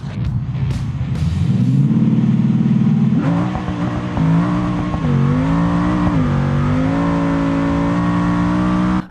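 Twin-turbo Bastion race car in BeamNG accelerating hard, a loud, close engine roar climbing steadily in pitch through several gear shifts, with the turbo whine running on without a break.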